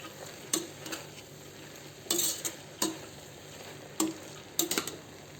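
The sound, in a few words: stirring spices into banana stem kurma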